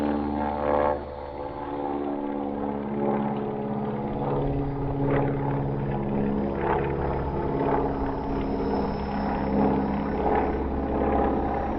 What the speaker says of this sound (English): Listen to the sound of the radial engines.